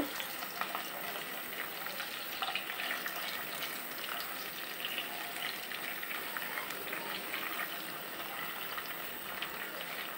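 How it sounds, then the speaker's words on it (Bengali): Fish lightly seasoned with chili and salt, without turmeric, frying in a pan: a steady, dense sizzle that crackles continuously and evenly from start to finish, close and fairly loud, with no voices over it. "মাছগুলোকে আমি হালকা একটু ভেজে নিব।"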